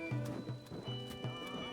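Horse in the video game Zelda: Tears of the Kingdom gives a few quiet, rhythmic clip-clopping hoofbeats, soft and fairly close.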